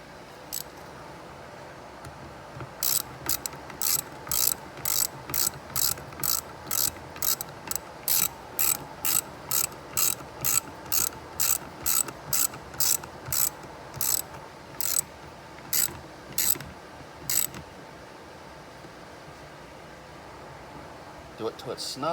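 A ratchet wrench clicks in steady repeated bursts while bolts are snugged down evenly on a 1994 GMC C3500 TBI engine during a rebuild, loud and close, with brief pauses between strokes.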